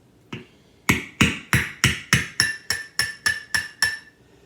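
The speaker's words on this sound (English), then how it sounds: "And I'm just going to hammer it down," A hammer striking a long Phillips screwdriver to force it through a hole in a plant pot: one light tap, then ten sharp, evenly spaced ringing blows, close and loud, with no talking.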